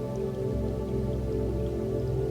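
Lake water rushes and sloshes steadily around a paddle, a dense, loud, continuous wash with a low droning hum underneath and no voices.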